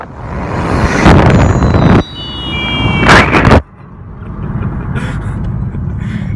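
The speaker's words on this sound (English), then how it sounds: "That's his custom homemade blow-off valve." A custom homemade blow-off valve on a Hyundai Veloster engine vents in two loud, rushing bursts with a thin whistle, close to the microphone, followed by a steadier, lower engine rumble.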